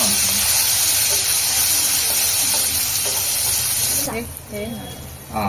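Chopped tomato hisses and sizzles loudly in a hot pan of oil and peanuts, a steady broad steam-like sizzle that drops away near the end as stirring clinks and a brief voice come through.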